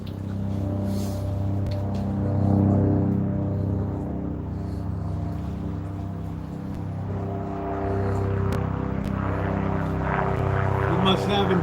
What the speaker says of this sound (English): We got the police helicopter up.